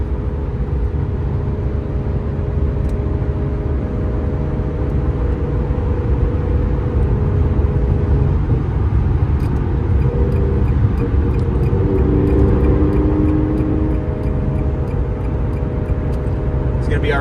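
Steady engine and road drone from a 2000 Ferrari 360 F1 Modena cruising at 75 mph on a highway, a continuous low hum with tyre and wind noise throughout, alongside someone talking.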